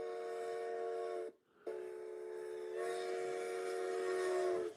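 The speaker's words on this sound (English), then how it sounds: "I hear the train." A train sounds a sustained steam-style whistle from a distance, a harmonic-rich tone that breaks off briefly and resumes, swelling slightly louder toward the end.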